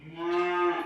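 A cow moos once on a cattle farm, a loud, close, sustained low call lasting nearly a second with no talk over it.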